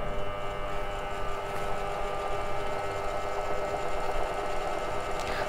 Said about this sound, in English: You can see our motor has started.